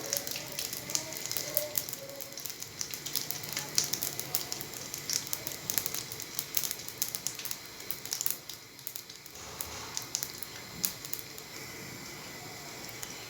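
Steady crackling and sizzling of börek frying in hot oil, a continuous dense hiss with small pops, fairly quiet and close.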